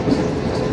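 The Pak Business Express train rolls along the rails, a loud close rumble of wheels and carriage noise with steady rhythmic clatter.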